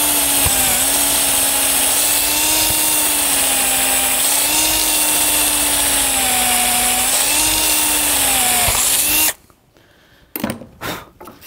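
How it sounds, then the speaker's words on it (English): A brad point drill bit bores all the way through a piece of wood in a woodworking shop. The motor whines loud and steady for about nine seconds, then stops, followed by a few faint knocks. "I'm using a nice little brad point drill here. And I'm going to drill it all the way through to the other side."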